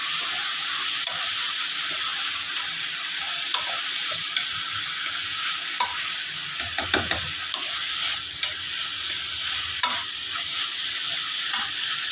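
Chopped onions for paneer bhurji sizzle steadily in a hot pan, a constant close hiss broken by occasional scrapes and taps of a spoon stirring them, with no talking.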